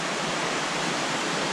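West Clear Creek near Camp Verde, Arizona flows in a loud, dense, steady rush of water, close by and unbroken, with no voices over it.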